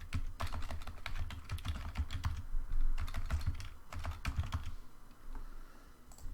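Typing on a computer keyboard at a steady pace, with rapid clusters of close, crisp key clicks and short pauses, no voices.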